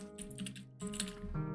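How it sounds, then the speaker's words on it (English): A cat walks across a computer keyboard and presses keys, giving a run of soft clicks and taps at close range over a steady tonal background. "Come on, you're walking on my keyboard."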